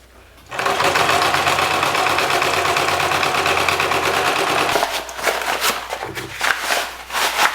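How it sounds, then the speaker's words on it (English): A sewing machine stitches the fabric edges of a homemade bikepacking handlebar bag, a loud, steady mechanical whirr for about four seconds that stops abruptly, followed by fabric handling noises. "I'm just going to sew these edges and then turn it inside out"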